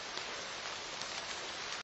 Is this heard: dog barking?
no